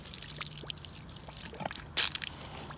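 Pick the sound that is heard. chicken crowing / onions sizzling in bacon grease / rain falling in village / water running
water running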